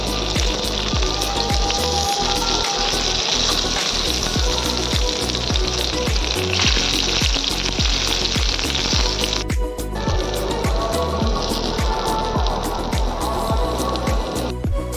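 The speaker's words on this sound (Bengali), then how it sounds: "কড়া বসিয়ে দিয়েছি আর সর্ষের তেল দিয়ে ভাজবো" Flat beans fry in hot mustard oil in a wok, giving a loud, continuous sizzle with frequent scraping and clattering as they are stirred and turned, close up and without speech.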